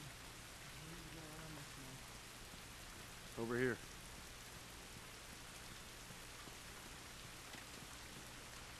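Rain in the video game The Last of Us Remastered falls as a steady, soft hiss throughout, with a brief spoken phrase partway through.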